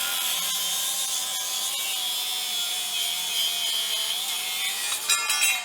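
Tack welding casters in a workshop gives a steady, close buzzing crackle that runs without a break and swells slightly louder near the end.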